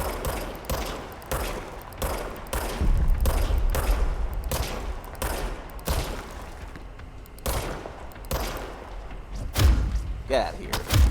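Service Weapon gunfire in the video game Control, repeated heavy thumping shots in uneven bursts over several seconds, loud and punchy, with a person talking in between.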